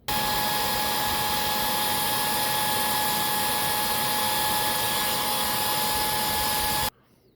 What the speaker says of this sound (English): All right, the airflow reading's now finished.